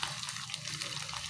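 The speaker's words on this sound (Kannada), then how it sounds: "ಎಷ್ಟು ಚೆನ್ನಾಗಿ ಫ್ರೈ ಆಗುತ್ತೆ." Steady bubbling hiss of chicken manchurian frying in oil in a pan, continuous and close, with a dense crackle throughout the short stretch.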